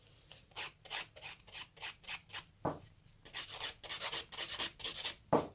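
An electric nail file with a 100-grit bit sands off gel nail extensions in quick repeated rasping strokes, a close, dry, rhythmic grinding that speeds up toward the end, with no voices.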